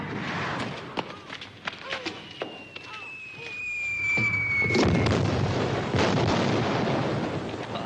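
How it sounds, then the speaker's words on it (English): Cannon fire and rain-making rockets boom in the hills during a staged rainstorm attempt, a series of distant thuds and cracks under people talking, building into a louder rolling rumble with a whistling streak. "That ain't thunder, that's cannon fire."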